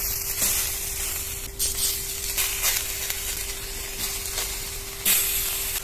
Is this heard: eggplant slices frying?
yes